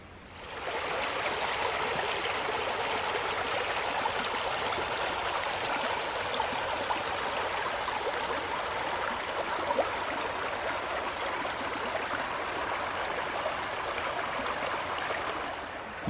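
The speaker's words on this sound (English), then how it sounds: "look at this beautiful creek here" A creek along a Panther Den Wilderness trail flows steadily, giving a continuous close, even rush of water with no voices over it.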